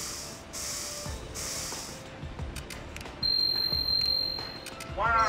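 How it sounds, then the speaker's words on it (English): Spray hissing onto the floor in the video game Trauma Team, several soft bursts of broadband spray in the first two seconds, followed by a sustained bright electronic tone and game chimes. "Alright, so spray on the floor."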